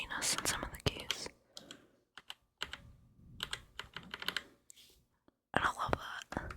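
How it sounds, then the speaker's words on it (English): Keys on a Roccat Vulcan 121 keyboard clack in quick bursts with pauses between them, close and crisp, with a slight springy ring. Soft whispering runs through the quiet gaps. "You can hear some springiness in some of the keys."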